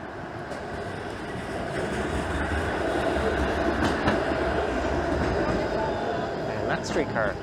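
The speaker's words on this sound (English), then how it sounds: "that streetcar is going to the Distillery District" A downtown Toronto streetcar rolls past on its rails with a steady rumble and faint clatter, fairly close and loud throughout, under city street noise and a voice talking.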